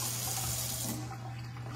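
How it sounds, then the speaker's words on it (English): Water runs steadily from a battery-powered electric kitchen faucet during a home inspection, a close, continuous splashing hiss into the sink. "he's got an electric faucet"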